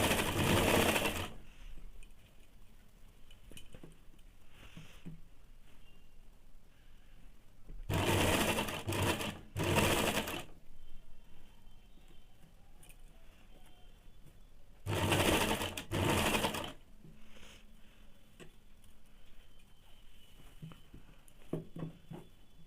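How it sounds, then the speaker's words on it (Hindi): Sewing machine stitching a semi salwar garment in three loud, steady bursts of a few seconds each, separated by quieter pauses with faint handling sounds, no talk. "फिर इसको सामने वाले तरफ से एक साइड का सिलाई देंगे।"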